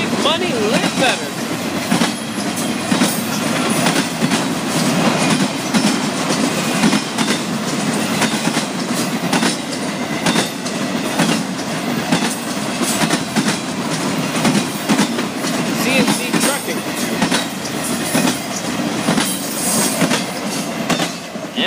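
A long Florida East Coast Railway freight train rolls steadily past close by, railcars clacking rhythmically over rail joints with occasional wheel squeal, a continuous loud rumble from start to finish.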